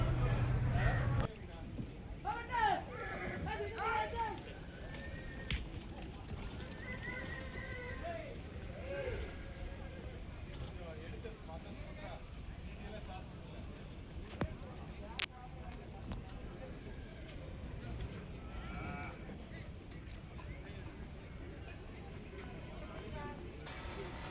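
Horses trotting at a temple chariot festival ring in Anthiyur, hoof clip-clop mixed with people talking and crowd noise throughout.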